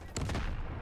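A short burst of rapid video-game gunfire, a quick fusillade of loud, crackling shots lasting under a second.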